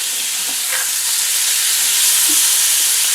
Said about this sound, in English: then I just dropped the meat in to brown